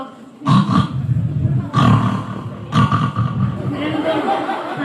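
In a school mimicry act, a voice imitates a pig grunting in a mud pit: three loud, rough, guttural bursts close to the microphone, with lower rumbling grunts continuing between them.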